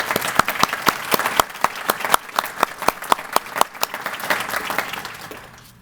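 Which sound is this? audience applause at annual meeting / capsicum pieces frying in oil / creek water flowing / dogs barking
audience applause at annual meeting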